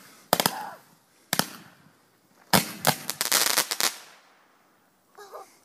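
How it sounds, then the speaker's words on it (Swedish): Fireworks from a firework cake crack and pop in a few sharp bursts, a quick double bang, then a denser volley of crackling explosions before fading out, at Easter. "Det var ingen värst fart på de här fyrverkerierna."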